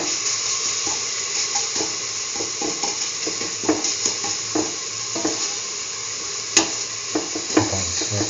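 Chickpea flour batter is stirred in a bowl. Soft, irregular scraping and wet mixing taps repeat against a constant hissing background that sounds like frying or running water. It is close and moderate in level, with no speech.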